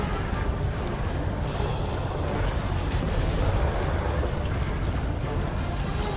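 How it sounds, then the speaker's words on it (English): Continuous deep rumbling barrage of cannon fire during a spaceship battle in Elite: Dangerous, a steady dense roar with scattered sharper impacts throughout. "Cannon shot missed."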